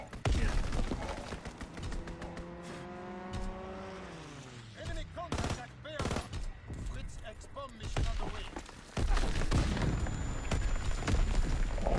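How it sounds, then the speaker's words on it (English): Grenade blasts and bursts of gunfire from a Call of Duty WW2 match on the Shipment map, with a BAR rifle in use. Dense, chaotic booms and rattling shots crowd the whole stretch, and a loud explosive surge comes near the end. "Trying to grenade me in the corner."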